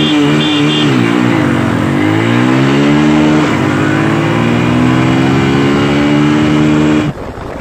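A Yamaha R15 V4 and a Honda CB Unicorn accelerate hard side by side in a drag race, loud close engine notes rising through the gears before cutting off abruptly.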